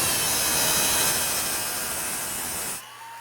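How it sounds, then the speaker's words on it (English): A drill spins a 1/5th scale racing wheel hub against coarse 36 grit abrasive, giving a loud, steady hissing grind that stops abruptly near the end. "Here we go, we're gonna grind this wheel."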